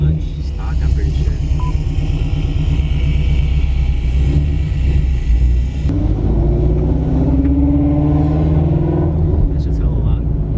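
A stock Ford Mustang GT350 with a twin-disc clutch roars loudly and steadily up close, its engine note rising in pitch as it revs and accelerates, with a brief dip in the middle.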